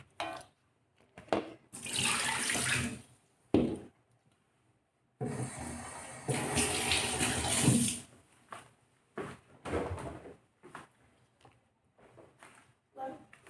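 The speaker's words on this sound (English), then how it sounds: "Pour out some more water." Tap water gushes in several bursts into a sink or container while food soaks at home, the splashing stream starting and stopping in separate pours, with people talking in between.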